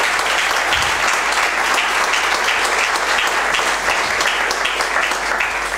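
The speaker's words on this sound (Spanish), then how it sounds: "lo primero que querría es pedir un aplauso" A conference audience at a university seminar on building crafts applauds, dense sustained clapping from many hands filling the room steadily and loudly throughout.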